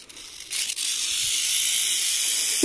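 A Southern Pacific rattlesnake (helleri) rattles its tail in a loud, continuous buzzing hiss that starts after a brief pause and holds steady, close by and with no talk over it.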